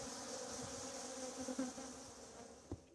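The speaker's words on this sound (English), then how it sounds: "the place where the bees congregate around their queens" Bees buzzing around a hive in a forest village in Meghalaya, India, a steady close drone with a few louder passes of single insects.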